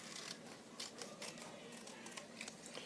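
Scissors snip through helmet tube stripe decal sheets, cutting them in half with a few crisp, close clicks and rasps of blades on paper-backed vinyl.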